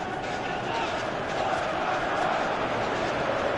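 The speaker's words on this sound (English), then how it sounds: "you can hear how the crowd are reacting to this too" A stadium crowd in a PES football video game roars in a steady, dense wash of noise throughout, loud and unbroken with no distinct peaks.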